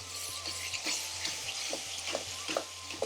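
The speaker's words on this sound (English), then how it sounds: "Cook out that base gravy. Make it nice and sweet." Base gravy for a tikka madras cooking in a high-sided aluminium pan, a steady soft sizzle with intermittent stirring scrapes and small pops, close and continuous throughout.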